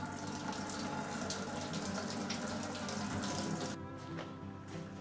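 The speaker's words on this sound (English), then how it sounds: "let's start sparging this over" Water is sparged over a corn bourbon mash, a steady close rush of pouring water that thins and softens for the last second.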